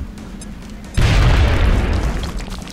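A frag grenade detonating in XCOM: Enemy Within, one sudden heavy boom that breaks over quieter ambience and rolls into a dense, rumbling blast tail that slowly fades.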